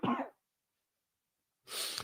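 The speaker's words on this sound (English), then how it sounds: "a little bit of cough still left in here" Two short, breathy coughs from a single person, close to the microphone and separated by over a second of silence.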